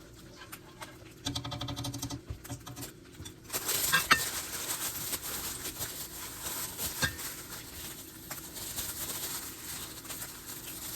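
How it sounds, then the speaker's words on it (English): Ingredients being stirred together in a bowl, with chopped bell peppers among them, giving a soft, steady scraping and clinking that runs close and continuous with no talk. "I will go ahead and mix this up a little"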